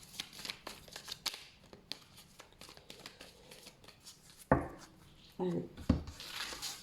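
Oracle cards being shuffled by hand, a run of soft papery riffles and rubs building to a few louder shuffles near the end, with no talking over them.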